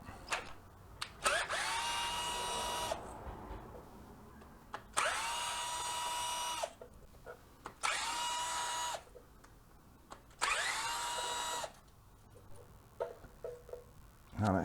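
A power tool removes four bolts from a Harley Davidson stator, giving three whirring runs of a couple of seconds each with spin-up and wind-down, separated by quieter clanks and handling noise.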